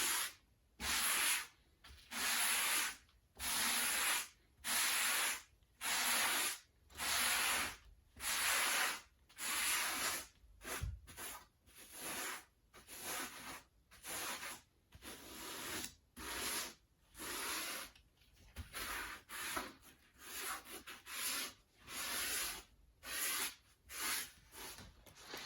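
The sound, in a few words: sanding soft upholstery foam by dragging backwards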